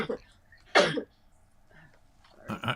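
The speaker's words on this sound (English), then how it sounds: "I got a cough." A single harsh cough, loud and close, with faint speech fragments before and after it.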